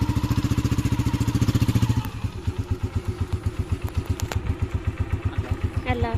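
A motorcycle engine runs close by, pulsing in a steady idle-like rhythm that shifts to a rougher, lower throb partway through, with a brief clatter near the end.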